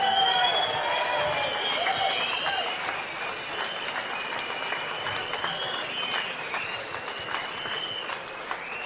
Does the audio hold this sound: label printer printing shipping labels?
no